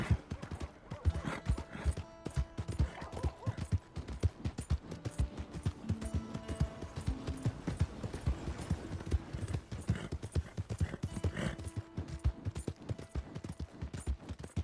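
Rapid clip-clop of horse hooves galloping steadily and loudly throughout the video game Red Dead Redemption 2, a continuous rhythmic pounding with faint tonal sounds underneath.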